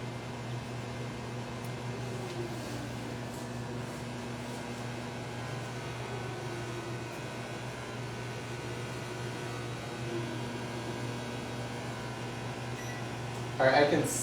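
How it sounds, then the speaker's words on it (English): A microwave oven cooking bacon runs with a steady, even hum and whir throughout, close by, ending with a brief louder clatter. "I can see it through the microwave."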